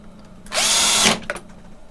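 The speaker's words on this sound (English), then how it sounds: "We're going to put our two mounting screws into the window frame" A power drill drives two mounting screws into a window frame to fix roller shade brackets. It makes one loud, close, high whirring burst of about half a second, then a brief fainter tail.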